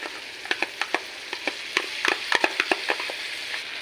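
Chili chicken masala for chili chicken Maggi sizzles in a pan as tomato sauce goes in, a close, steady frying crackle broken by quick sharp stirring scrapes and pops, with no voice.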